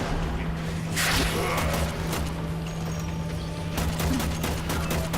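Rapid bursts of gunfire from the video game Warframe crackle in quick, clustered volleys, moderately loud over a steady low hum, with no talking.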